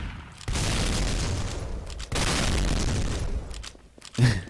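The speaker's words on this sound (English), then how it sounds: "They all explode" Map props blowing up in a custom Team Fortress 2 map: two long, loud rumbling blasts back to back, followed by a brief sharp burst near the end.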